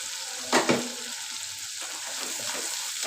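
Masala for a prawn malai curry frying in a pan just after water goes in, a sharp double hiss near the start settling into a steady, even sizzle with faint stirring.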